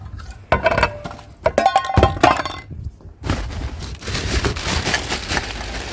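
Scrap aluminum pans and metal pieces clatter, clink and thunk as they are handled and tossed together during street scrap collecting. Sharp, irregular bursts come close, followed by steadier rustling and rattling.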